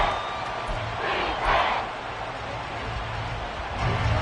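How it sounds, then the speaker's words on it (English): Football stadium crowd cheering and roaring late in a close game, a broad distant wash of voices that swells in waves, with no clear speech on top. "This crowd doing all they can."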